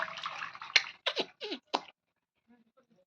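A few quick splashes in bath water, loud and close, then a soft trickle of drips as things go quiet.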